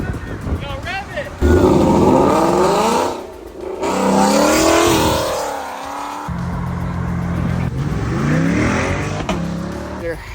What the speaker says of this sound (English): watch these cars while they're leaving and exiting the car show